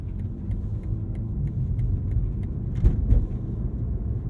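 A BMW M4 CSL with stiffened suspension rolls over a cobblestone drive. A steady low rumble is heard from inside the car, with a couple of sharper bumps near the end.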